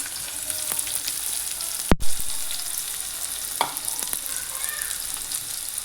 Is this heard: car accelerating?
no